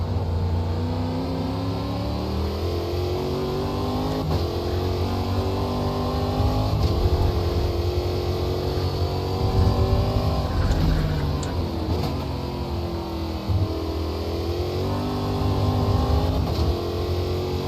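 A Stock Car Brasil race car lapping in Automobilista 2, its engine droning loud and close throughout, pitch climbing and falling through repeated gear shifts and revs as it corners and accelerates.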